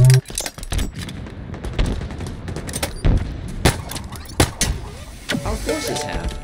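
Gunfire in a Halo Infinite capture-the-flag multiplayer match, with sharp repeated shots and bursts among other game effects, loud and close, mixed with voices.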